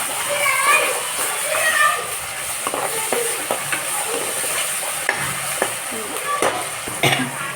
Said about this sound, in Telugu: అంటే చాలా అల్లం వెల్లుల్లి పేస్ట్ చేసేసుకొని కొంచెం అది కూడా కలిపేసుకోండి